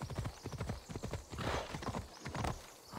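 Hooves of a horse walking in Assassin's Creed Odyssey, a steady clip-clop near and clear with a brief whinny in the mix, no speech.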